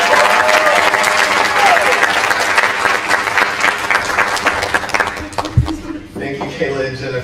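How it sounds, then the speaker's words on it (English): An indoor audience at a university education scholars' end-of-year celebration claps steadily and densely, with some crowd voices mixed in, before the applause thins out and fades near the end. "Clap it up for Cohort 6."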